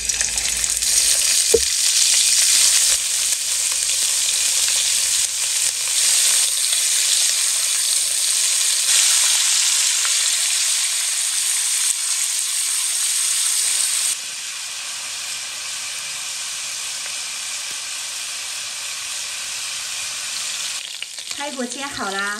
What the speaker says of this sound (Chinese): 油热下入排骨煎一下